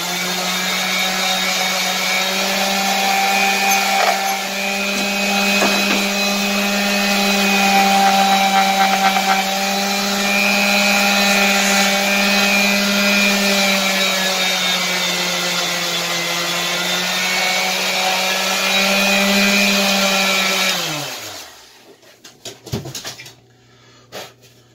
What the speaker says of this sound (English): Once you get what you wanted, take your sander.